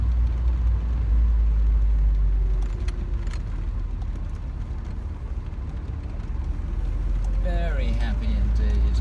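1993 Alfa Romeo Spider Series 4 sports car pottering slowly along seaside lanes, its low engine and road rumble steady and moderate throughout, with a few brief brighter sounds near the end.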